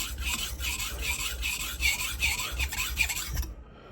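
A knife edge scraped back and forth across a sharpening stone in Japan, a steady close rasp of quick strokes that stops abruptly near the end.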